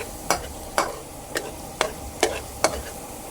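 Garlic frying in a pan for chicken adobo, stirred with about six sharp utensil scrapes against the pan at a steady rhythm over a soft sizzle, with no voices.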